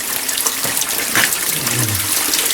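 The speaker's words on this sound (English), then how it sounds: "you've got a little flow of water there" Glacier meltwater runs and splashes into a container as it is collected at a camp near College Fjord, Alaska, a steady close trickle and gurgle with no talk.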